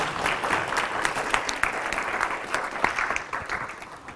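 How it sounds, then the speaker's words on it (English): A room audience at a lunch-and-learn session claps together in a dense round of applause, sharp overlapping hand claps that hold steady and start to thin out toward the end. "let's give one more round of applause"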